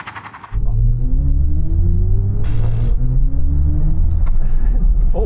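A BMW i4 electric car launching hard in cold, greasy conditions, struggling for grip, with a steady loud rumble and rising whine as it accelerates after a brief quieter start.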